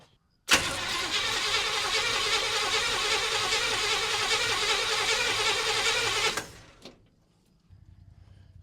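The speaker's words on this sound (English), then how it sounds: "I'm going to turn it over and see if it's pumping fuel into that bad boy." A 1963 Chevy Ranch truck engine cranks over in one sustained, loud, close run of about six seconds, then stops abruptly, leaving quiet with faint low rumble.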